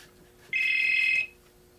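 A phone rings with a single steady electronic tone lasting under a second, clear and fairly close in a quiet workshop with a faint hum underneath.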